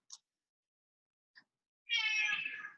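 A cat gives one clear, loud meow near the end, preceded by a couple of faint, brief chirps, with no talking over it.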